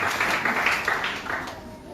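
A church congregation applauding together in sustained, dense clapping, loud and steady with small swells, the hands continuing without pause.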